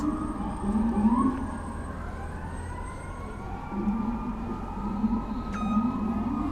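Fire department and police sirens wail along a Manhattan street, rising and falling at moderate distance over a steady bed of city traffic.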